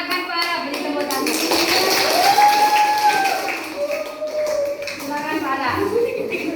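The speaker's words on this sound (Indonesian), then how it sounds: "beri tepuk tangan" Schoolchildren in an elementary classroom clapping for a presenter, quick, close, uneven hand claps mixed with shuffling while children's voices and tonal chatter run over the top.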